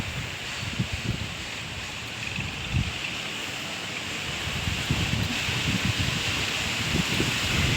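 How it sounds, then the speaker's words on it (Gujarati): Wind blows through leaves in rainy weather, a continuous rushing roar with gusty swells and rustling that grows a little stronger in the second half. "પવન ચાલુ થયું તમારે બધાને કેવો પવન છે અમારે ત્યાં હારા હારો પવન છે"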